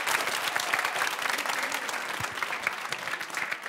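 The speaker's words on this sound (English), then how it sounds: "Give a round of applause" Applause from an award-ceremony audience at a European young audience film award, a dense steady wash of many hands clapping with no pauses, fairly distant and even in level throughout.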